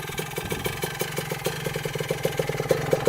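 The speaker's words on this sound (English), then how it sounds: "It's a good sign that it's still idling." A Suzuki RM 125 two-stroke dirt bike, revived after sitting 15 years and leaking fuel, idles close by with a steady, fast pulsing putter and occasional slight surges.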